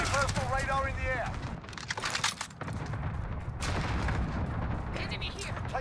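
Cluster strike and grenade explosions in Call of Duty: Modern Warfare, a dense rumble of repeated blasts and gunfire running throughout, mixed under frequent in-game voice callouts.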